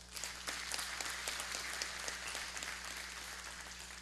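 Audience applause fills a legislative assembly chamber in São Paulo, Brazil, during a tribute session: steady, dense clapping from a crowd, moderately loud and sustained, with no voices over it.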